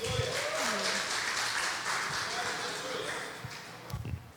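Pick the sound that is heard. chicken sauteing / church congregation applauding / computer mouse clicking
church congregation applauding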